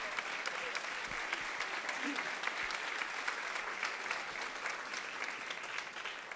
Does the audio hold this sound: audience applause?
yes